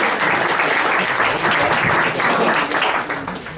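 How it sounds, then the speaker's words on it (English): A roomful of people at a capstone project briefing claps steadily for several seconds, a dense even patter that holds throughout and thins slightly at the end. "we could give Elizabeth a round of applause for that lunch"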